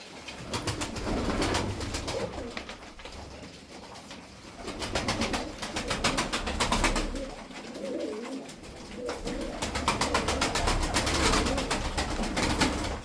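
Many pigeons, including white pigeons, coo continuously close by, overlapping soft throaty calls, with light fluttering and shuffling in the background.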